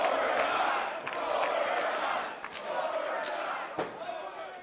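A wrestling crowd at a GCW Bloodsport match chants in unison for overtime, a loud, continuous roar of many voices echoing through the arena, with a few sharp thuds breaking through.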